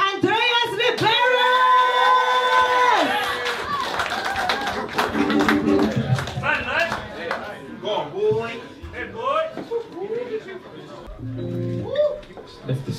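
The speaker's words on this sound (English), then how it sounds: "Give a big round of applause to Andreas" A small audience at a live music performance gives scattered claps and loud whoops and shouts of the performer's name, sounding close, uneven and fading into quieter murmurs.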